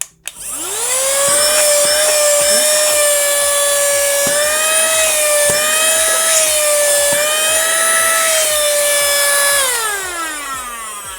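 A WERTVOLL AC-3500 car vacuum cleaner powered from 12 volts whines up to a loud, steady high-pitched motor tone with occasional light knocks, then spins down at the end.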